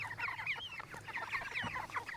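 Chickens being herded into a coop cluck and squawk in quick, overlapping bursts, a small flock close by and moderately loud, with no talk.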